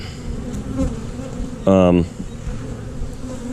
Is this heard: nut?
no